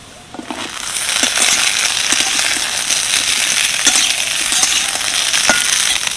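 Cut okra hitting a hot pan with ginger and garlic sets off a loud, steady sizzle that holds throughout, broken by sharp clicks and pops of spattering oil and stirring.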